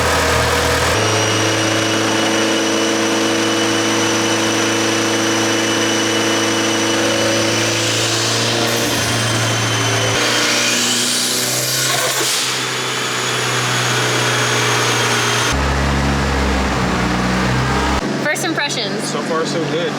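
A Mitsubishi Evo engine on a dyno holds a loud, steady drone that climbs and shifts in pitch as it revs, with a voice talking over it and the note changing sharply near the end.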